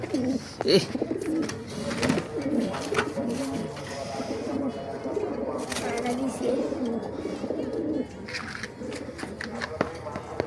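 Pigeons coo repeatedly in a loft, soft rolling calls rising and falling throughout alongside wing flutters and shuffling, with someone talking over them now and then.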